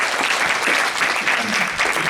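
A church congregation at a Korean Sunday worship service in Auckland applauds their pastor, a dense, even burst of many hands clapping together, steady and close throughout.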